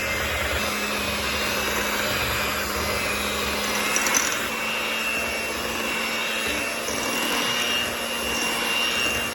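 Princess cake batter with oil and water being mixed, heard as a loud, continuous machine-like whirring drone that holds steady for the whole stretch, with no voices.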